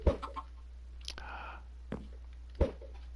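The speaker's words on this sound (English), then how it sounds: "And you can also hatch chickens in this game." Short clucks and clicks from chickens in a survival video game, a few scattered sharp bursts over a constant low electronic hum, with no talking.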